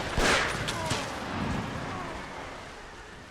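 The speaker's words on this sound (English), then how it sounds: "Enemies are shooting back." Battlefield musket fire from enemy regiments shooting back in Empire: Total War, a dense ragged crackle of volleys with a sharp burst near the start fading into sustained distant rumble.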